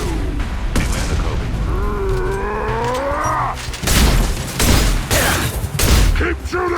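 Gunfire in the video game Mass Effect 2, loud bursts of shots cutting in around the middle and end, amid game sounds and a warbling effect with a voice speaking earlier.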